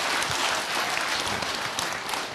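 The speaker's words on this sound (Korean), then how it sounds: "어쨌거나 간에 박수다" A crowd's applause at a Buddhist monk's talk show, steady, dense clapping that holds throughout at a fairly loud level, with no speech over it.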